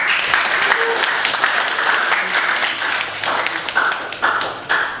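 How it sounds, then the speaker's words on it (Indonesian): An audience applauds steadily with dense, overlapping claps, loud and sustained for several seconds with a few stronger bursts, at an academic thesis examination session. "Mari kita beri tepuk tangan sekali lagi pada para penguji"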